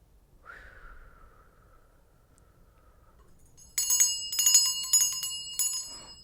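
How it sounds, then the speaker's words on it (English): A small bell rings in several bright, ringing strikes with lingering overtones, heard alone and close after a brief soft sound near the start. "Spirits had to ring the bell."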